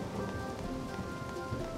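Steady rain pours in Harvest Moon: Animal Parade, with a low rumble of thunder rolling beneath the continuous wash of drops, no voices over it.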